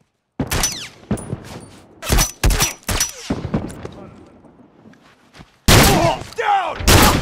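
Rifle gunfire in The Last of Us video game, a run of sharp loud shots in uneven bursts with echoing tails, including a heavy cluster near the end, amid combat sounds.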